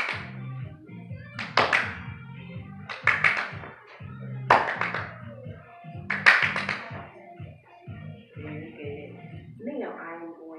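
Hands clap quickly during a physical education exercise, in several tight bursts of rapid claps that come close and loud, with talking running underneath.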